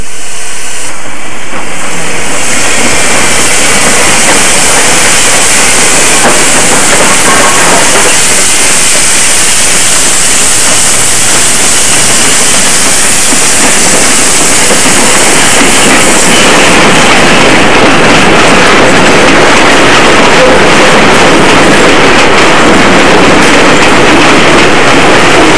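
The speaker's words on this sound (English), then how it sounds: "SYs take their first breath of steam before entering industrial service." A steam locomotive, an SY class engine at Tangshan Coal Mine in China, hisses loudly and continuously, its broad rushing steam mixed with the rumble and clanking of the running engine, close by.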